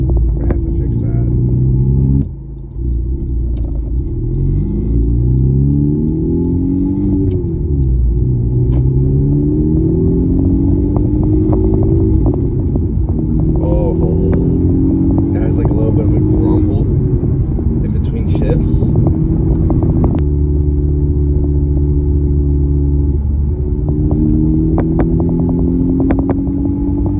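A Honda Civic Type R with an AWE exhaust idling and revving repeatedly, loud and close, a raspy engine note rising and falling in pitch over and over, with someone talking throughout.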